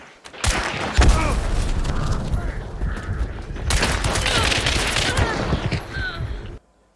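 Rapid rifle fire from an Iron Repeater lever-action rifle in the video game Hunt: Showdown, dense bursts of loud shots and mechanical clatter over about six seconds, stopping abruptly, with a voice talking over part of it.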